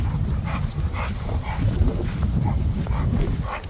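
A dog barks repeatedly at moderate distance over a constant low rumble of outdoor background noise.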